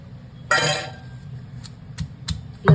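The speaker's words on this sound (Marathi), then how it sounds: "आता मी लसूण कुटून घेते आणि हिरवी मिरची" Garlic and green chilli being pounded in a kitchen mortar, a sharp metallic clink followed by several lighter, scattered knocks, close and fairly quiet.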